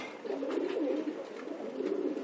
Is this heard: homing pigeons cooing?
yes